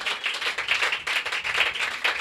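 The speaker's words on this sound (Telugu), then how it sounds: "చప్పట్లు కొట్టి దేవుని ఆనందపరచండి" A church congregation claps together during a worship service, a dense, lively patter of many hands in quick, fairly even rhythm, close and steady, with no talking.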